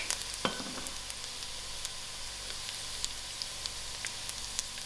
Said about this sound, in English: While my onions are getting brown, I will add in my garlic